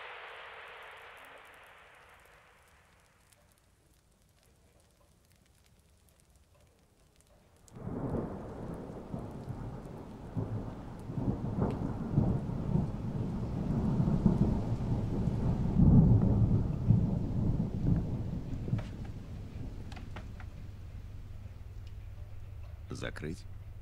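A thunderstorm with heavy rain, starting with a faint fading rumble and then a sudden loud downpour that roars steadily, with thunder swelling in the middle and a few sharp crackles near the end.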